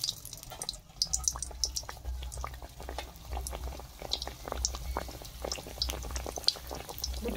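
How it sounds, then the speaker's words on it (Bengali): Potato chops fry a second time in hot oil. The sound is a steady, quiet bubbling with many small crackles and pops throughout. "তো দেখুন একটা একটা করে তেলে আবার ভেজে নেব।"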